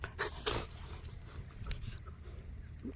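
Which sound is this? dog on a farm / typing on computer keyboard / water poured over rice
dog on a farm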